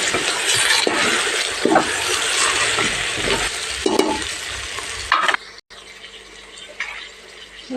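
Vegetables for undhiyu frying in oil with a spoon stirring, a steady hiss broken by several scraping clatters, then the sizzle drops to a quieter, duller crackle near the end.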